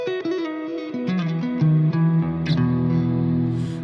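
A semi or hollow-body electric guitar with a darker tone plays a short descending melodic line through heavy reverb, notes ringing and sustaining into a washed-out tail, alone without talk.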